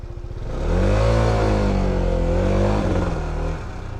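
Close motorcycle engine revving hard as the bike crosses a tight spot, rising into a strained, steady drone for several seconds, then easing off.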